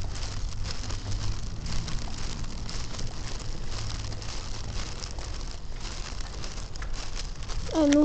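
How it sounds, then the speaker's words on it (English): Snow pelting down outdoors, a dense steady patter and hiss of flakes striking surfaces close by, continuous and moderately quiet. "I'm literally pelted with snow here."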